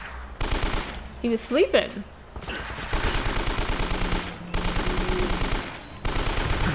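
Rapid automatic gunfire in the video game Uncharted: Drake's Fortune, rattling in long sustained bursts with short gaps between them, with a player's voice speaking briefly over it.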